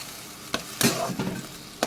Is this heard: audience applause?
no